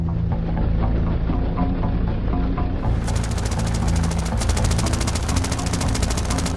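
A Boeing CH-47 Chinook helicopter, a large twin-rotor military machine, thrums with a loud rapid rotor chop that grows harsher and stronger partway through, heard close and continuously.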